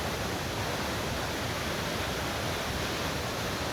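Steady, dense roar of the Athirapilly waterfall spraying water, heard close by as a continuous broadband rush with no breaks and no voices.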